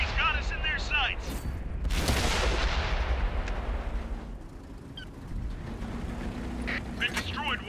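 Tank cannon fire and booming explosions in the World of Tanks video game, with a loud blast around mid-clip and further distant shots, heard beneath game voice callouts and radio chatter.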